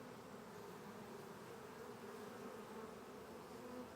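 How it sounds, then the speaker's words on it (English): Honeybees fan their wings around a caged queen, giving a steady, close, low buzzing hum that stays even throughout with no voices. "they're fanning their wings"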